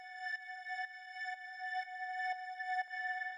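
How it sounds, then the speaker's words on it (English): A synth drone for melodic techno: a steady, sustained harmonic tone played alone, with soft pulsing accents recurring about every half second. "So the first sound I have here is this drone"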